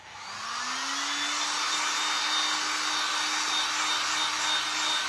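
A handheld dryer blows air over a refurbished cross bought secondhand for a craft flip. It makes a steady, close, loud whooshing roar with a thin motor whine that rises quickly and holds without a break.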